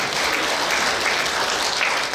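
Steady, dense applause from an audience welcoming a lecturer at an elderly leaders' training session at a resort, continuous and full throughout.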